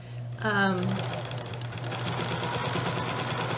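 A sewing machine runs continuously around the curvy bottom edge of a baby jumper, a close, steady hum of rapid needle strokes after a brief pause at the start.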